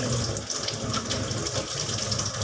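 Tap water running steadily into a sink while a lemon is washed for a refreshing juice, a close, continuous gushing stream at even loudness from start to finish, with no talk.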